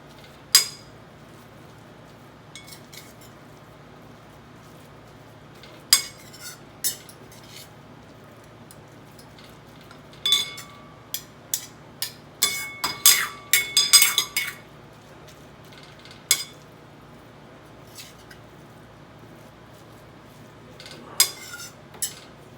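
Grated beetroot sautéed in ghee for beetroot halwa and stirred with a metal spoon in a pan, heard as sparse clinks and scrapes against the cookware, in scattered bursts over a quiet background.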